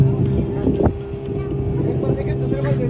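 A boat rides on water at sunset with wind buffeting the microphone and a low engine hum beneath. A short voice is heard briefly among the steady churning noise.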